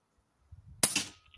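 A single sharp crack from an Air Arms S510 Carbine air rifle, close and loud, following some low handling rumble and fading into a brief decaying tail.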